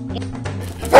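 A dog gives a short bark and a small yip, ending in a louder sharp bark, close by.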